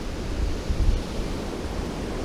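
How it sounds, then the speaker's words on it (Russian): Strong wind roars steadily against the microphone outdoors while float fishing, a constant low rumbling buffet with a brief gust swell partway through. "Но ветер, ой, ужасный."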